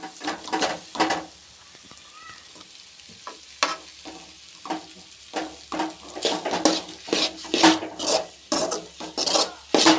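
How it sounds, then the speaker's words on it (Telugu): Maggi noodles being tossed and mixed with Maggi masala in a pan, heard as repeated scraping and stirring strokes with a light sizzle, close by and uneven in rhythm, with no talk. "ఇదంతా బాగా స్ప్రెడ్ అయ్యేలా కలుపుకోవాలండి, మొత్తం అంటేలా కలుపుకోవాలండి"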